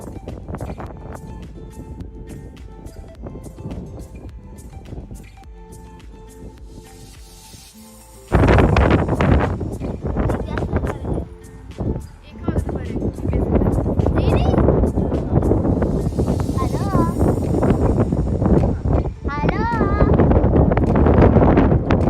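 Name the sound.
strong wind at Diablo Dam, Washington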